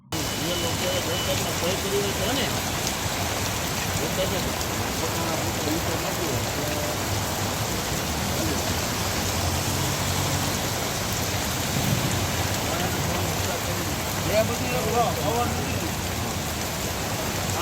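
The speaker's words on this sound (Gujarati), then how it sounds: "શહેરમાં હળવા ભારે ઝાપટા સ્વરૂપે વરસાદ વરસવાનું શરૂ રહ્યું" Steady rain falls continuously, an even rushing hiss that stays level from start to finish.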